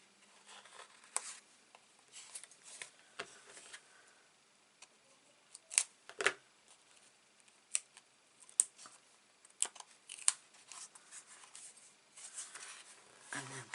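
Scissors snip paper for a chalk-themed 6 x 4 mini album, scattered sharp close cuts and light handling clicks spread over a quiet background, with no one talking.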